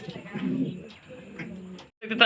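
Fancy Mundi pigeons at a farm coo in low, throaty rolling bursts, fairly close, with a brief pause and then another coo near the end.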